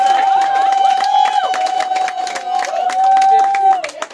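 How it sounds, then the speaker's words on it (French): Wedding guests at a celebration in Arpajon clap and cheer loudly and close by, with dense claps and shouts over a sustained tonal instrument or music, and a voice speaking through the noise. "on peut les applaudir encore très fort"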